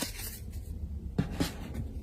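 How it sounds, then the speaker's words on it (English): Tarot card decks are shuffled by hand in a quiet room, giving soft continuous rustling and riffling with a couple of sharper card slaps, close to the microphone and without any talking. "Let me shuffle my decks here a little bit"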